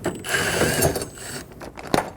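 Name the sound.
ratchet removing two 10mm screws on car door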